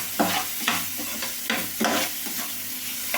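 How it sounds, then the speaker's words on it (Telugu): Chopped tomato pieces sizzle steadily in a pan for homemade pasta sauce while a utensil stirs them in regular, close scraping strokes, with no talking. "కట్ చేసుకున్న టమాటో ముక్కలండి. వీటిని అన్నిట్లు వేయించుకోవాలి."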